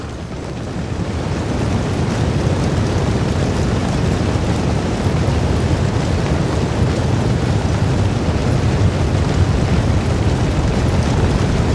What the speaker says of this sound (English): I'm going to shut up now while you hear the bombardment go ahead